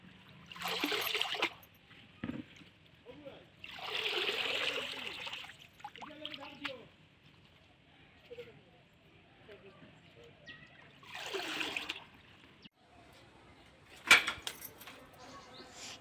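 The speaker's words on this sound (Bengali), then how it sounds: "এরপর এগুলো পুকুর থেকে ভালোভাবে ধুয়ে নিলাম।" Leafy bottle gourd greens are rinsed in pond water, with intermittent splashing and sloshing bursts separated by quiet pauses, close and moderately soft, ending with a sharp knock.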